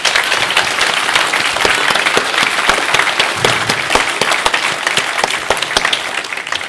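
Sustained applause from a conference audience of pastors, dense and steady throughout with sharp individual claps standing out, loud and close, no talking over it.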